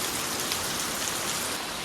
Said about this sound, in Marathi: आज पाऊस काय थांबत नाही